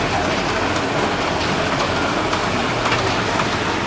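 Heavy morning rain falls steadily as a dense, continuous wash of broadband noise with no talk, loud and constant throughout.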